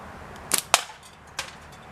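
A pickle fork slingshot is shot at long, full butterfly draw, giving two quick sharp snaps close together and then a fainter smack a moment later.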